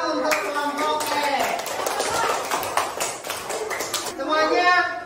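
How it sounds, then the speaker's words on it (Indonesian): Classroom audience applauding a group's presentation, a burst of brisk hand clapping for a few seconds before fading, with voices over and after it. "Tepuk tangan untuk kelompok E."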